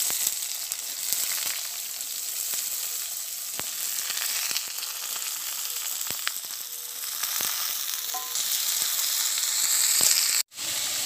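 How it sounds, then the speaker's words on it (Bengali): Potatoes and flat beans fry in hot oil with bay-leaf tempering, village-style cooking: a steady, dense sizzle runs close and fairly loud throughout with faint utensil taps, then cuts out abruptly near the end. "এবার আলু ও সিমটা ভেজে নেব।"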